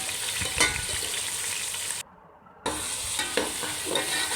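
Chicken fries with browned onions in a pan for a chicken pulao, giving a steady close sizzle with stirring scrapes, briefly cut to silence midway before the sizzle resumes.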